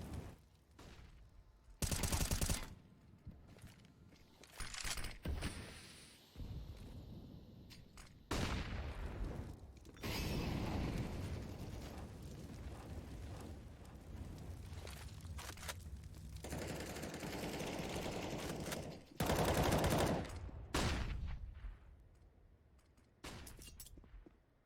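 Gunfire in a CS:GO match plays out in repeated bursts of rapid automatic shots and single cracks, loud and close, separated by short quieter gaps.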